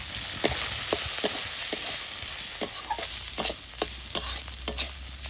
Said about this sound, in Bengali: সামান্য হলুদ চিংড়ি মাছগুলো ভাজা ভাজা হয়ে গেছে